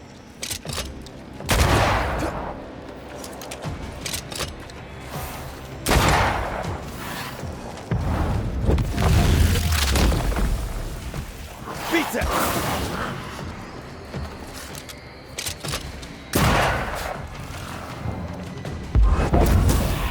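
Repeated gunfire and booming explosions in Banishers: Ghosts of New Eden, heavy blasts and volleys arriving in loud waves across the scene, with voices speaking between and under the fighting.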